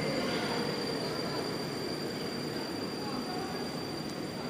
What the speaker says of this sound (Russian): Так, прибывает состав